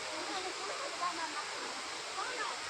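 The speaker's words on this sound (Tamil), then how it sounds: "அருவியை பாருங்கள் எவ்வளோ அழகாக இருக்குன்னு" A scenic waterfall at Papanasam sends a steady, full wash of falling water that stays even and close throughout, with faint voices underneath.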